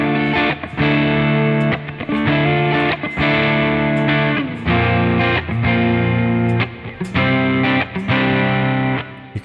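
An electric guitar played through a lead emulation pedal on a worship pedalboard, gritty distorted notes and chords in short phrases with sustained tones and brief gaps, loud and alone.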